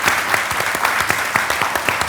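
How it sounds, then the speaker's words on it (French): A studio audience on a French-language talk show applauds the panelists, a dense, even clapping that fills the whole short stretch. "Une bonne main d'applaudissements pour nos panélistes."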